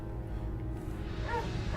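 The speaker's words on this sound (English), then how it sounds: "despite my dog barking like mad" A pet dog barks excitedly indoors at someone outside, a steady run of quick yips and barks under a constant low background hum.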